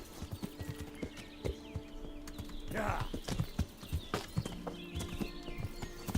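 Horse hooves clip-clop at a steady walking pace in the video game Kingdom Come: Deliverance, with a whinny midway and someone talking briefly over the hoofbeats.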